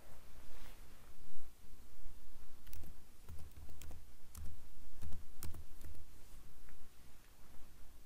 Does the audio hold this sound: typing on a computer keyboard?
yes